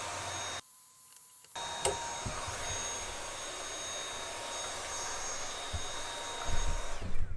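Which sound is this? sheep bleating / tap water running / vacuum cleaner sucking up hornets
vacuum cleaner sucking up hornets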